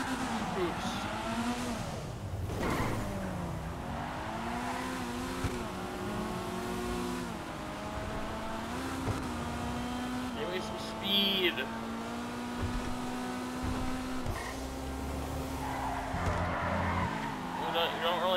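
A Dinka Postlude coupe with front-wheel drive in the video game GTA 5 drives with a steady engine drone, shifting pitch as it accelerates, with tire skids mixed in throughout.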